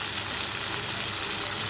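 Potatoes frying with turmeric, cumin and coriander, a constant, dense, close sizzle with no talking.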